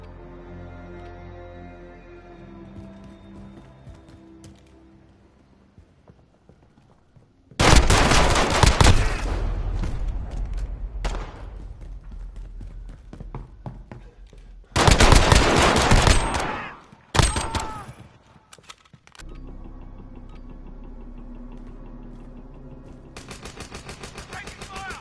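Loud bursts of automatic gunfire from the Modern Warfare video game come in several long, rapid volleys, separated by quieter game ambience with music-like tones.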